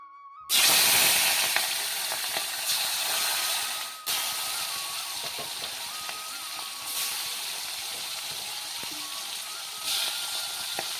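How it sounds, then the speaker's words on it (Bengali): Salted, turmeric-rubbed bhetki fish dropped into hot oil in a village kitchen, bursting into a loud sizzle that settles into a steady frying hiss, briefly dipping midway, with no talking. "এই তো নুনটা মাখিয়ে এখন ভাজা করে নেব"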